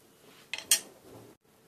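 A bread omelette flipped in a pan: two quick clattering knocks of utensil and pan close by, then a soft scrape and silence.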